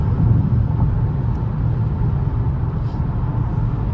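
Kia Stinger GT all-wheel-drive car on the move in traffic, a steady low cabin rumble of engine and road noise heard from inside, even and continuous.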